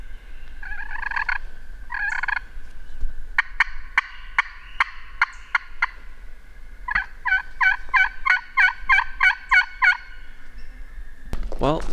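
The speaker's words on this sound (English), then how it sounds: "we're starting to hear some turkeys gobble across the street, and they're getting pretty close" Wild turkeys gobbling on private land in Michigan, several repeated gobble bursts in quick rhythmic series, fairly clear over quiet surroundings.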